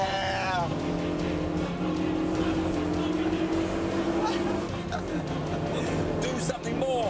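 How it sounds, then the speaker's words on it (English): An Audi four-wheel-drive hot hatch accelerates hard on a track, its engine note rising and falling through gear changes, loud and close over a steady drone of road noise, with someone talking over it. "The four-wheel drive of the Audi really helps on traction and acceleration"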